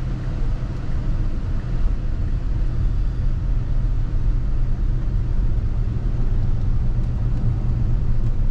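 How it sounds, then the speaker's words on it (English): A car passes on a road during a daytime drive with Tesla FSD Beta 8.2, heard from inside the vehicle as a steady, loud low rumble with road noise and no clear swell. "All right, so there's a car coming. Car pass, so it's going to be going."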